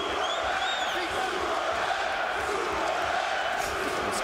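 Dense cheering from a boxing arena crowd at a professional fight, a steady, loud roar of many voices with scattered whoops throughout.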